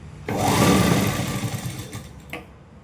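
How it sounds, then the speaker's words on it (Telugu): Sewing machine running steadily while stitching a square-neck blouse at a tailoring table, a loud continuous whirring hum that starts abruptly, holds for about two seconds, then fades to quieter handling noise. "బ్లౌజ్ని తిప్పుకొని ఇలా కుట్టుకోవాలి"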